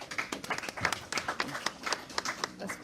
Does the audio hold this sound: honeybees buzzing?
no